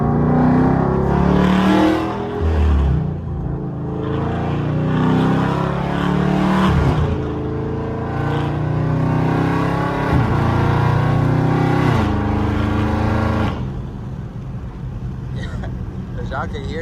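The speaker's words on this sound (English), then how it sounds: "this exhaust setup is crazy, bro. It's like very loud." A Dodge Charger R/T with a very loud aftermarket exhaust roars and revs repeatedly on a city street, deep and close, with brief gaps between blips and the engine settling toward idle at the end.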